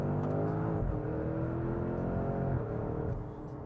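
A Porsche Turbo GT engine accelerates hard, a loud, sustained revving roar with rising harmonic sweeps, heard from inside the cabin, easing slightly toward the end.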